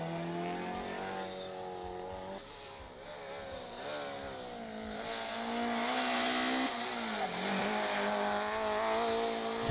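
Peugeot 106 S16 rally car driving hard on a rallysprint stage at Era del Cardón, engine note rising and falling through gear changes, loud and close throughout with a few dips between shifts.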